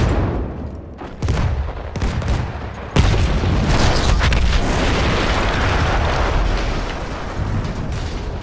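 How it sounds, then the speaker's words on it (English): A heavy explosion in the video game Battlefield 1 booms and rumbles on with crackling debris and gunfire-like bursts, loud and continuous. "That explosion was one of the sweetest sights of the war for me."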